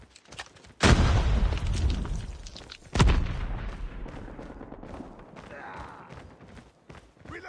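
A frag grenade detonates twice in a shooter video game, each blast a loud, deep boom with a rumbling tail, at the start and a few seconds later, under shouted callouts from players.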